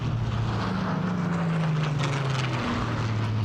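A Supermarine Spitfire with a Merlin engine flies past at an airshow, its loud piston-engine drone steady and close. The pitch slides gradually as the aircraft passes, with no voices over it.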